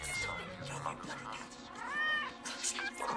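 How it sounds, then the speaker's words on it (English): A cat meows in a rising and falling cry, heard clearly at middle distance. Voices and other indoor sounds mix in around it. "Hermione, I hate your cat. Bad Crookshanks."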